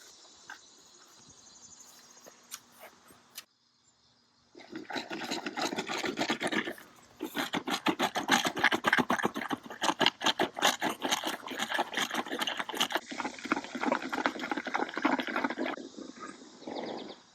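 Pressure washer water jet blasting soil out of the ground around an old mailbox post, a loud sustained rough hiss and splatter starting after a quieter lead-in, continuing with pulsing surges to the end.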